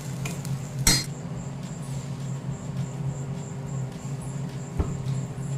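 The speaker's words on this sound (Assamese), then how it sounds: "এইখিনি ধুনীয়াকৈ মই অলপ সময় লৰাই লৰাই ভাজি ল'ম" Metal spoon scraping and clinking in a pan while paneer gravy with sugar is stirred and fried, with one sharp clatter early and steady low sizzle, crickets chirping faintly in the background.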